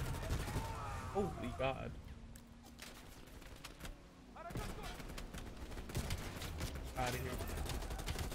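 Gunfire in the video game Call of Duty Black Ops Cold War, with repeated sharp shots and bursts spread through the clip and a voice talking over them.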